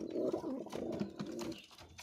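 Pigeons coo in low, throaty, overlapping calls that carry on steadily throughout, close by and fairly loud against a faint background with no talking.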